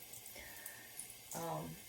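A bathroom sink tap runs briefly to wet makeup, a short, soft gush of water near the end after quiet room tone.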